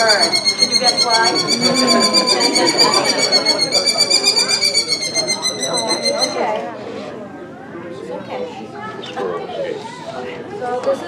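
A Merlin falcon named Liam gives a rapid, repeated high-pitched chattering call, loud and close, in a steady pulsing series that breaks off partway before scattered quieter calls follow.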